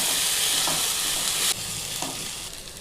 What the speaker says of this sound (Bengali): পেঁয়াজের ওপরে দিয়ে দিচ্ছি আগে থেকে আদা রসুনটা বেটে নিয়েছিলাম, আদা রসুন বাটা। এটা দিয়ে একটু নাড়িয়ে নিচ্ছি।